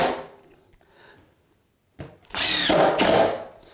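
A power drill drives a flooring screw into a plywood subfloor: a brief whir, a pause, then a loud close sustained whine lasting about a second and a half, with no voices.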